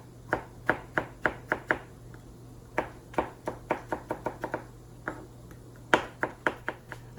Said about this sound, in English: we've chopped up all those tomatoes